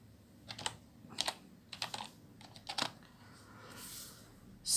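Typing on a computer keyboard while building a table in Excel, several short clusters of close, crisp key clicks separated by pauses, followed by a brief louder tap at the end.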